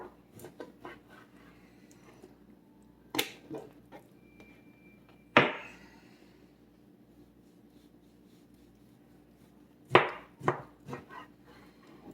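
A knife works through center cut pork chops with a few sharp, separate cuts and scrapes, near and fairly loud, spaced irregularly with quiet gaps between them.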